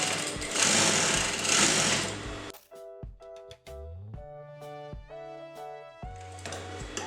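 A sewing machine stitches kurta fabric along the inner side of a seam, whirring loudly and steadily for about two seconds. Clear tonal, note-like sounds follow, and the machine's noise returns briefly at the end.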